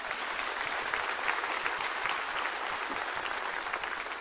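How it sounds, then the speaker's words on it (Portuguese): An audience claps for Laurinho at a talk, a dense, steady round of applause from a crowd, evenly loud throughout. "Uma salva de palmas para o Laurinho."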